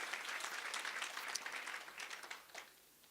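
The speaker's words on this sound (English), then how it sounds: "A big round of applause to all of you for being here today." A crowd applauds steadily for a few seconds, a dense patter of many hands that thins and fades out at the end.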